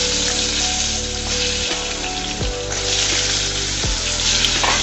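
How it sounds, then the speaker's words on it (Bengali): Potatoes frying in oil seasoned with salt and turmeric, a steady dense sizzle that stays loud and close throughout, with low hum and a few soft bumps as the pieces are stirred; no voices. "বন্ধুরা, আলুগুলাকে আমি নেড়ে চেড়ে ভেজে নিচ্ছি।"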